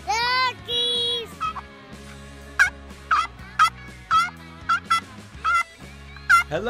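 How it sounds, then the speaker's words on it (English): Turkeys gobble in a series of loud, rapid, warbling bursts, close by and repeated several times, with short gaps between calls and no talking. "Look at the turkey."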